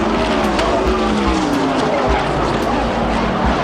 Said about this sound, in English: horrible crash here on the front stretch